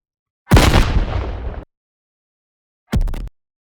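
Two processed, heavily distorted explosion effects from a personal sound library: a loud booming blast lasting about a second, then silence, then a shorter, sharper burst.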